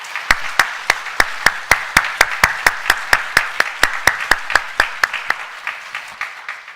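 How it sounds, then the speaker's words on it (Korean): A church congregation at a Sunday worship service claps in a steady, even rhythm of about four claps per second. The loud, unison claps run for several seconds and fade slightly toward the end, with no talk over them. "박수 한번 하십시다."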